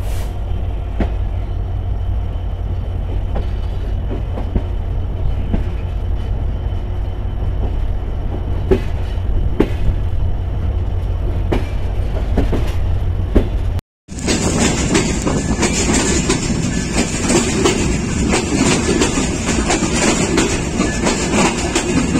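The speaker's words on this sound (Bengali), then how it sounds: "পঞ্চগড় এক্সপ্রেসের কাছে ডলা খাওয়ার পর প্রায় 15 মিনিট লেট করে চিলাহাটি এক্সপ্রেস ফুলবাড়ি স্টেশন ছেড়ে গেল" A Chilahati Express passenger train runs on after pulling out of Fulbari station, a loud, steady rolling rumble that cuts briefly near the middle and resumes with a brighter, hissier rush. No one speaks.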